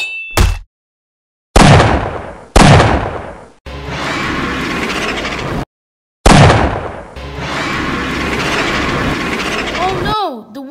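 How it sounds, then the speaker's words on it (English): Cannon fire in an animated Ninjago battle: several loud booming blasts separated by abrupt silences, followed by sustained rumbling action noise and whooshing effects. "Nia, you fire the cannon at Fire Fang"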